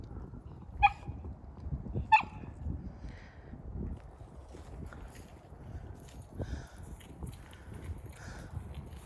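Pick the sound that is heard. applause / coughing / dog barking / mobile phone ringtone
dog barking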